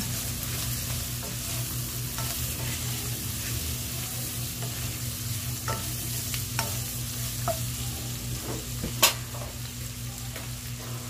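Kikiam being stir-fried for pancit canton keeps up a steady, close sizzle over a constant hum, with scattered sharp clicks and scrapes of the spatula throughout and no speech.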